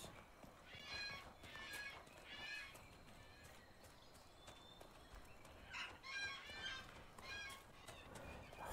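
Birds in Dragon Age: Inquisition give scattered, faint chirping calls in short bursts over a soft steady ambient bed, with clusters of calls near the start and again later.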